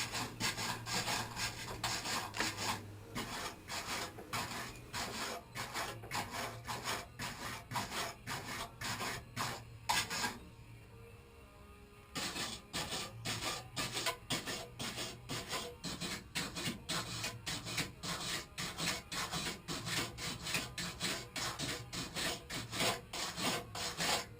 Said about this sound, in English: While you're brushing everything, getting all cleaned up for welding.